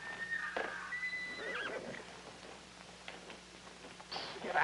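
A horse whinnies loudly with rising and falling cries, then hooves clatter and stamp close by, with shouting and scuffling around it in an old television drama.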